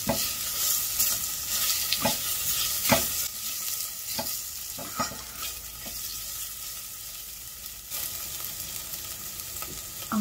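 Garlic and ginger sauté in a hot pan, a continuous crackling sizzle broken by repeated spatula scrapes and clacks against the metal, close and moderately loud with no voices.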